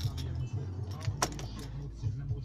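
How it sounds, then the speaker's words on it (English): An Audi TT Mk2 key is pulled from the ignition with a brief jingle of keys over a steady low engine hum, the rattle close and light. "Remove ignition, take the key out."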